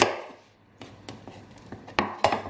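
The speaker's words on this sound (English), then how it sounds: "And then I'm just going to cut them into large chunks." A knife chops bell peppers into large chunks on a cutting board, giving a run of sharp, close knocks at an uneven pace with quiet pauses between them.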